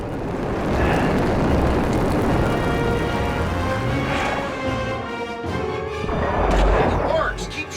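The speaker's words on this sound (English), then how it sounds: "Keep shooting out those vents!" Phaser fire and heavy booming blasts shoot out vents in a Star Trek video game, loud rumbling bursts rolling continuously with voices talking over the gunfire.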